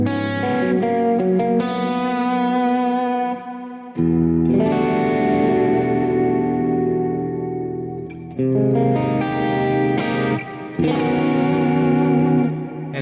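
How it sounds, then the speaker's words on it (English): An electric guitar played through a Quad Cortex with a long reverb rings out in sustained, slightly dirty chords. Each one washes into a lingering tail before the next strum, and the sound is loud and close with no talking. "you can turn on the longer reverb"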